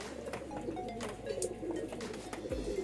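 Pigeons in a breeder's loft coo in soft, low, repeated murmurs, close by over a steady background hum, with scattered wing and perch sounds between them.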